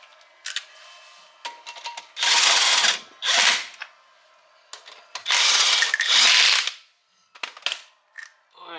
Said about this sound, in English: And then we'll use an impact to tighten them up.